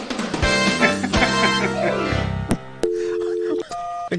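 Phone call being placed: a burst of quick dialing beeps and tones gives way to steady ringback tones, with a few sharp clicks between, heard close and clear with no talking.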